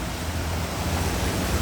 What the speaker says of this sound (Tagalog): Palakas ng mga ulan.